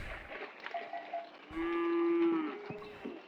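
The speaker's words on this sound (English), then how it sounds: "Even more cattle were gathering around now." A cow in a herd of cattle gathered around a truck on a road lets out a long, close, sustained moo, with shorter lowing calls and rustling before and after.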